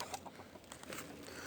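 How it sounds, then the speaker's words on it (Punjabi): Chickens clucking inside a coop, a busy cluster of short, overlapping calls at close range with no talk over them. "ਮੁਰਗੇ ਦਿਖਾਉਂਦੇ ਆ ਜੀ, ਆਹ ਮੁਰਗਿਆਂ ਦਾ ਖੁੱਡਾ"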